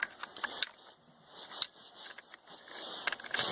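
A clutch nut tool being worked off a Penguin engine during crankcase-to-transmission assembly, giving a few quiet metallic clicks and ratchety taps spread unevenly across a short stretch, close and faint with no talking.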